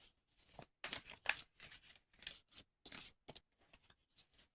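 Several quick bursts of riffling and flapping as a deck of cards is shuffled, coming in separate rapid spurts with short pauses between them, close up.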